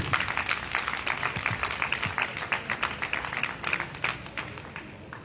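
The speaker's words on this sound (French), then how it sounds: "Je voudrais que tu l'applaudisses, s'il te plaît." A church congregation applauds in a dense patter of many hands, steady and moderately loud throughout.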